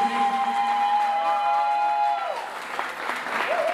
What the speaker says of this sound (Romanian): v-aș ruga aplauze furtunoase pentru mirii noștri,